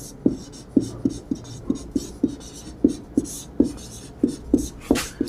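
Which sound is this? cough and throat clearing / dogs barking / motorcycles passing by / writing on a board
writing on a board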